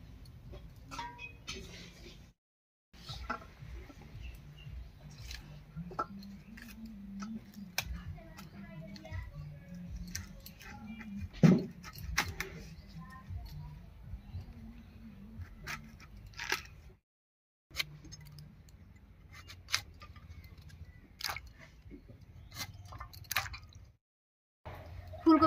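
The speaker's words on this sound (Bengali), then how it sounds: "ঝটপট করে সবজিগুলো আগে কেটে নিই" Winter vegetables, cauliflower among them, being cut on a board at close range: soft irregular knife ticks and crunchy squishes with brief pauses, fairly quiet, with occasional faint background noise.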